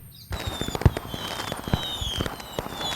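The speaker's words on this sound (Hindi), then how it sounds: "वीर, इमली और मोटू तीनों पतलू को याद करते हुए पटाखा जलाते हैं" Firecrackers lit on Diwali burst in sharp, irregular pops with crackling between them, fairly close, over a continuous hissing, crackling background.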